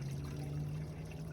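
Waste water drains out of an RV black water tank with a steady, soft gurgling trickle, faint and continuous under a constant low hum, with no talking.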